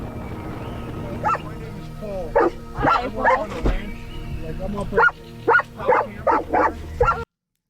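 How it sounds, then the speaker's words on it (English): A dog barks repeatedly in short, irregular bursts on a remote dirt road, moderately close, over a steady engine-like background rumble and some faint voices. "If the dog is barking that bad"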